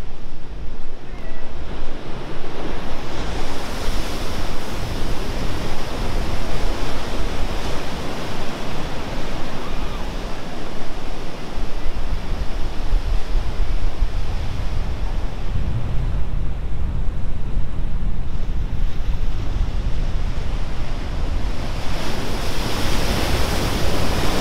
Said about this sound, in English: Listen to a few waves crash here.